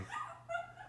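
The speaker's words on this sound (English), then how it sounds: "but that's a dog out in the hallway," A dog barks and whimpers out in a hotel hallway, heard faint and muffled through a room door in a short yelp-like burst.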